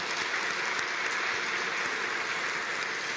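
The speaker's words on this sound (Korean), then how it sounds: "우리 선교지에 계신 우리 선교사님들을 위해서 응원의 박수를 보내면 좋겠습니다." A church congregation at a morning worship service claps in encouragement for missionaries, producing steady, even applause at moderate distance with no talk over it.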